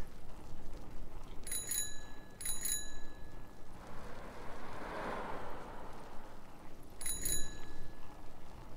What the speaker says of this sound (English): I like the bell.